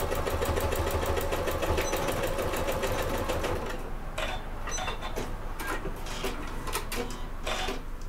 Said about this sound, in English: I've top stitched all the way around that curve